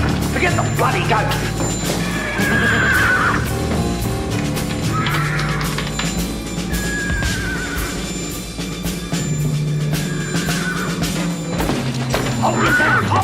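A horse whinnies several times amid loud chaotic commotion, with crashes and thuds and bursts of shouting around it.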